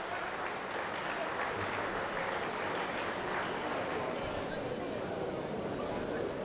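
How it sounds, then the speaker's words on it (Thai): Foreign spectators at a Muay Thai bout clap steadily for the winner, a dense, continuous wash of applause from a crowd with voices mixed in, even in level throughout. "ชาวต่างชาติปรบมือให้ครับ"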